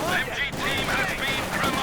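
MG42 machine gun fire in the Company of Heroes 2 video game, a dense, continuous rattle of gunfire and battle noise filling the whole stretch, loud and close, with a brief dip midway.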